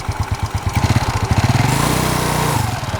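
A Yamaha Mio Sporty scooter with a 9-gram roller CVT setup starts on the electric starter. It cranks in loud rhythmic pulses, then settles into a steady, close idle.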